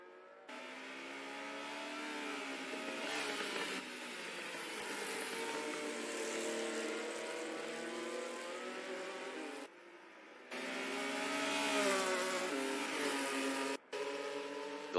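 Race car engines roar and rev in a virtual racing game, loud continuous high-pitched whine with shifting pitch, broken by brief gaps around the gear changes and near the end.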